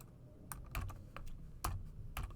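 Computer keyboard typing: a handful of separate key presses in an irregular rhythm, close and clear, with no talking.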